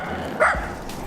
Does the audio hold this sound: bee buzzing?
no